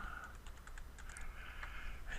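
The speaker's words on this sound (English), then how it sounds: "you can just type it in" Typing on a computer keyboard, a quick run of soft key taps close by in a quiet room.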